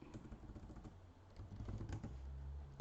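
Computer keyboard typing while entering a title into an Excel worksheet, a quick run of soft close keystrokes over steady low background hum, with no talking.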